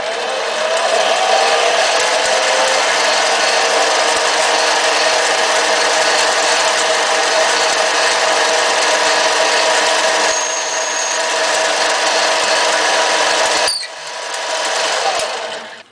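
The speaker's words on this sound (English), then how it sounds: "just about the center of that black mark is how deep I'm going to drill this hole." A drill bores a hole into a fountain pen section with a steady, high whirring whine that runs for about fourteen seconds before cutting off, with no talking.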